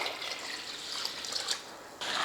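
Water is poured over soaking rice, urad dal and fenugreek seeds in a bowl, a steady close splashing stream that swells near the end, with no talk.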